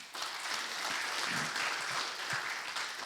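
An audience at an evening PraiseFest worship gathering claps together in a sustained, even round of applause, moderately loud and filling the moment without pauses, with faint murmuring underneath.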